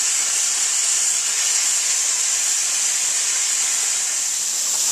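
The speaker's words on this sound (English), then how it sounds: "a little bit of steam coming out" Steady, loud steam hiss escapes from a pressure cooker used for canning tomatoes, a continuous broadband rush that holds evenly for the whole stretch with no talk over it.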